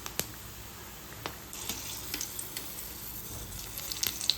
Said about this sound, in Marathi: अशीच उचलून तेलामध्ये सोडायची।